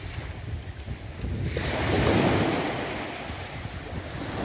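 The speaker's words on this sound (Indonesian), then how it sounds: "inilah sekelilingnya di tepi pantai timur Pulau Panjang." Surf breaking on the east beach of Pulau Panjang at midday, a rushing wash that swells and fades, mixed with gusty wind buffeting the microphone, no voices.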